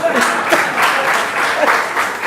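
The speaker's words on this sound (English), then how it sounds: "you should applaud me for that" An audience at a university professorial inauguration ceremony breaks into steady applause that fills the hall for a couple of seconds.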